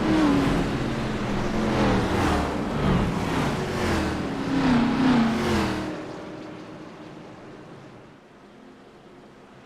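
Race car engines roar in iRacing during a Winston throwback series race, several cars passing with rising and falling revving drones before the sound fades to a distant hum.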